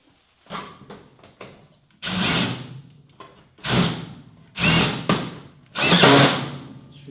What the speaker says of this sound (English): Okay, a couple of screws here I'm going to put in.